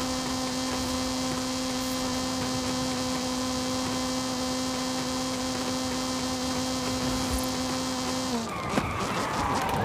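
A car in the video game Forza Horizon 5 brakes and skids near the end, a sudden tire scrub following a long steady engine drone on industrial terrain.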